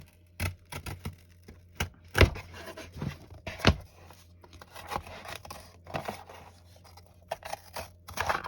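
Scissors cut through a paper lapbook cover in a run of crisp snips and rustles, some louder, spaced irregularly at close range.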